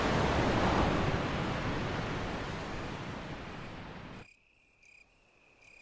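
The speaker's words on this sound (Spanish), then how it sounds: "Se oye agua corriendo a gran distancia." Distant running water in the video game Resident Evil Remake, a loud broad rushing wash that slowly fades and then cuts off, leaving a few faint tones.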